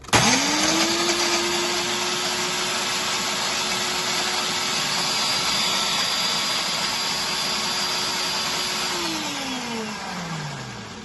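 A blender whirs steadily as it purees garlic, basil leaves and olive oil into pesto, running loud and sustained for about nine seconds before the motor winds down.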